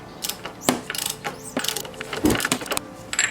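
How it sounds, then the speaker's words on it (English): Ratchet driving an oil filter socket on the oil filter housing of a Mercedes SL R129, a series of close, sharp clicking bursts in uneven rhythm, no talk. "With my oil filter socket, I'm going to open up the oil filter housing."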